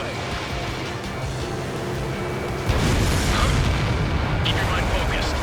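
In the Ace Combat 7 combat flight game, a missile is launched and explodes: steady jet engine roar swells into a sudden louder rumbling burst partway through that keeps going with crackling debris, close and dense, with no talk.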